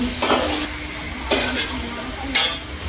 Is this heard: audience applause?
no